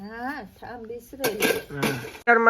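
Pots, bowls and a pressure cooker are being washed, with metal clattering and clinking that bursts in loudly near the end after a stretch of talking.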